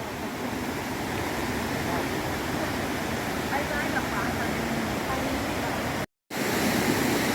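A steady, dense roar of rushing water from a nearby waterfall at Than Bok Khorani National Park, Ao Luek, Krabi, Thailand, constant throughout with a brief cut to silence near the end.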